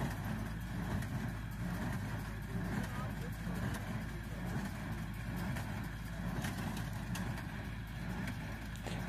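A mini tractor engine runs steadily at a distance, a continuous low rumble with no break, joined by faint outdoor background noise.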